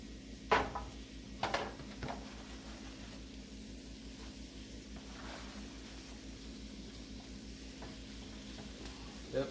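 Spinach added to a pan of sautéed onions and country ham, giving a faint sizzle under a low hum, with a few sharp clinks of a utensil against the pan near the start.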